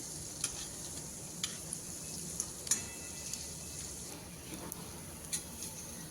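Taro pakoras fry in oil with a soft, steady sizzle, overlaid by light, sparse ticks and taps of utensils being turned; quiet and close, with no talk.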